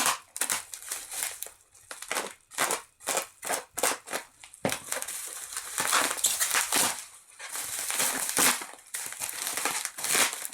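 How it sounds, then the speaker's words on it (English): A bubble-wrapped package being cut open with crinkly plastic pops and snips, bursts of crackling rustle arriving in uneven clusters, close up, with a stretch of denser continuous crumpling toward the end. "everything is bubble wrapped here, so just bear with me while I cut this open"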